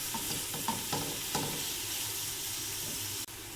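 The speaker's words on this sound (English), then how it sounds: "Sauté the onions until the color changes." Finely sliced onions sauté in a pan for rice, a constant crackling sizzle with several clear scraping stirs early on and a brief dip near the end.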